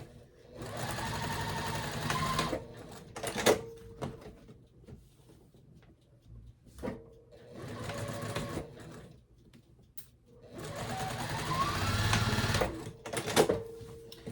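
A sewing machine stitches a shirt seam at a 2.5 stitch length. Three sustained whirring runs are separated by pauses with small clicks and handling knocks. It is close and fairly quiet, with no talk.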